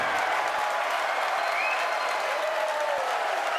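A crowd cheers and applauds continuously at a Falcon Heavy launch after side booster separation, a loud, steady wash of noise with occasional whistles.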